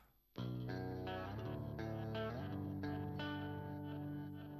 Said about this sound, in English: Ping pong, so it's totally bouncing back and forth.